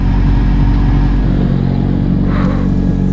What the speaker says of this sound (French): ah la patate de la voiture, il passe tellement fort